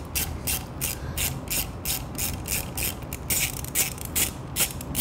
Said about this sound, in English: using our 10mm wrench, we're going to hold that nut, our 5mm Allen hex.